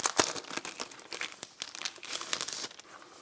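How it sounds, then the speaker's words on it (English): A new computer keyboard is pulled from its thin plastic wrapper, giving close, busy crinkling and rustling in irregular bursts with no voices. "I need to take it out of its little plastic wrapper"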